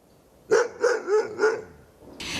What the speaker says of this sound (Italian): i 2 cani che abbaiano